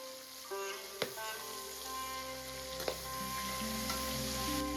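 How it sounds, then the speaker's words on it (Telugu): Green chilies and crushed curry leaves fry in hot oil for goat head curry, giving a loud continuous sizzle with a few sharp spatters and pops, close up and without talk. "ఈ పచ్చిమిర్చి కొంచెం వేగిన తర్వాత దీంట్లోకి కరివేపాకును కూడా బాగా నలిపి వేసుకుందాం"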